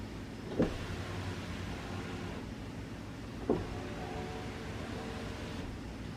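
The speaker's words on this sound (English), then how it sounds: "You want to try the window?" A Tesla Model Y's electric power window runs with a low steady motor hum inside the car, marked by two brief clicks or thumps spaced a few seconds apart.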